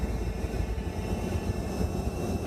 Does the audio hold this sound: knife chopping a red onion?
no